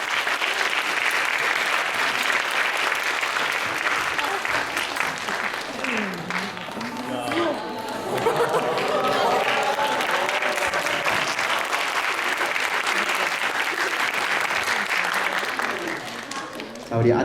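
Audience applause fills a Friday campus-ministry chapel service, steady clapping sustained for the whole stretch, with a voice speaking over it partway through.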